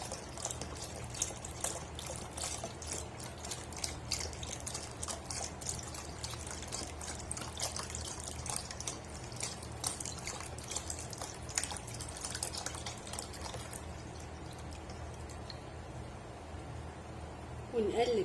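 Milk poured from a one-litre container into a pot of boiled rice for creamy rice pudding, a steady close trickle running throughout with a faint background hum.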